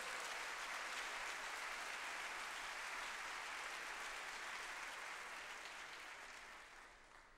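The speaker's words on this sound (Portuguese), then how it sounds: "Você quer aplaudir ao Senhor?" A church congregation claps together during a Sunday service, a dense, steady wash of applause that fills the room and fades slightly toward the end.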